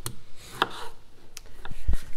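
A knife chops garden tomatoes on a cutting board, trimming off bad spots: a few sharp, separate knocks spread across the moment, with soft background noise between them.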